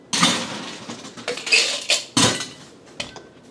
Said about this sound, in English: we're going to shake this drink because we want to get all our ingredients thoroughly mixed up